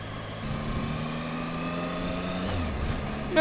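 An engine runs steadily at moderate revs, around 2,500, a smooth mid-pitched drone heard at a distance with faint shifts in tone, and a sudden louder bump right at the end.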